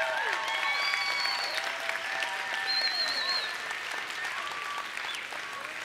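A church congregation applauds during a sermon, a steady wash of clapping from a packed room holding through the whole stretch, with whoops and shouts rising above it.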